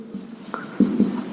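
A marker or chalk scratches across a board as a physics tutor writes notes, giving a few short, close strokes and taps in quick succession.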